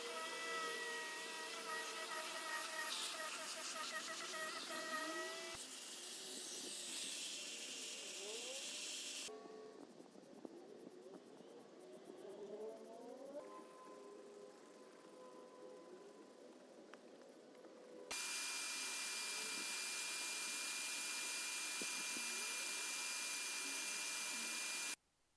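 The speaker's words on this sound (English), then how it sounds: "the Bissell, give these a good cleaning" A Bissell carpet cleaner works over dirty, sandy Jeep XJ carpets, giving a steady loud whining motor hiss that drops and changes tone between passes, then comes back at full strength near the end.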